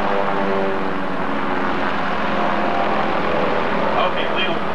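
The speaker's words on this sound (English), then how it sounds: "now rolls the aircraft down, picking up speed once again as the wings and the ailerons start to grab" A steady, loud roar from an aerobatic airplane rolling and diving during a 1993 Reno Air Races demonstration, with a commentator's voice running over the engine noise.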